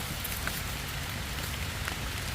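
Steady rain falls outdoors on a hill climb, a dense, even hiss of drops on surfaces with a few sharper patters, continuous and close with no talking.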